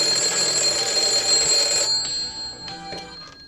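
A telephone rings with an unusual electronic tone, a steady bright ring for about two seconds before it stops, followed by a few faint clicks.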